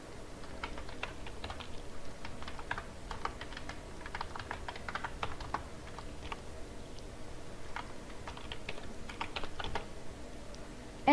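Rapid clicking keystrokes on a computer keyboard as a username is typed, with bursts of quick taps and short pauses, quiet and close with no speech.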